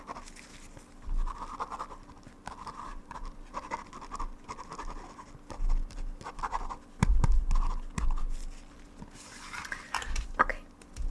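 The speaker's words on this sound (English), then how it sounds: "So I'm just gonna write down your measurements really quick." A pen scratches across paper close by, quiet and intermittent, in short strokes and pauses as eye exam measurements are written down, with a few soft clicks and taps and no speech.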